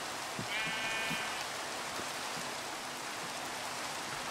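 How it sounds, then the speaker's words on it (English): A bleating sheep in Minecraft with the SevTech Ages modpack, heard as a short wavering bleat near the start over a steady rain-like hiss and scattered soft thuds. "Lots and lots of sheep and very little else."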